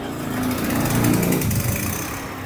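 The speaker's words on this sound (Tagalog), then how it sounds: "Tingnan nyo po, push button lang po siya." An Allen 3,200-watt portable generator with a push-button starter runs with a loud, rough engine clatter that swells briefly and then stays steady, with no talk over it.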